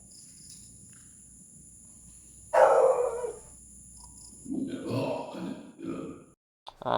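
A dog barks near the microphone in a quiet outdoor spot near the sunken church in Bulacan, with a short burst of barks and a yelp over a steady insect drone. Someone speaks softly in between.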